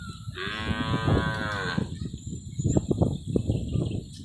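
A cow lets out one loud, drawn-out moo close by, scattered by a typhoon flood, followed by rustling and faint bird chirps in the open air.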